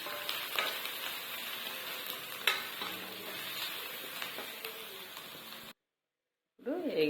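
Onions frying in a pan for a dhaba-style chicken gravy, a steady close sizzle with scattered stirring clicks and scrapes, cutting off to brief silence before a few more stirring sounds.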